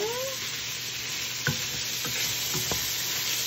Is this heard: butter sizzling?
yes